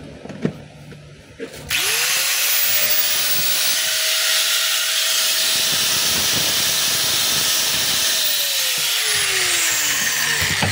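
A DeWalt DWE8200PL 4-inch angle grinder, opened up for bearing repair, spins up after a brief start and runs with a steady, loud high-pitched whine for about nine seconds, then winds down near the end.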